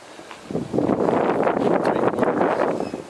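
Breeze blowing across a golf tee box at Tobacco Road: a low, blustery rush of wind buffeting the microphone, swelling after a quiet start and staying steady.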